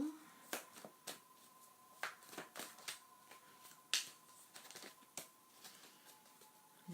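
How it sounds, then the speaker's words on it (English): Tarot cards shuffled gently by hand, giving soft, quiet riffling and light tapping clicks in an irregular rhythm, close and faint, with no talking. "This is a lot quieter way of shuffling."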